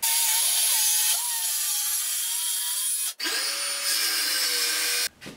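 A power saw rips a board guided along a Bora track straight edge, a loud steady whining cut with shifting pitch, a brief dip near the middle and the motor cutting out at the end, close with no talk.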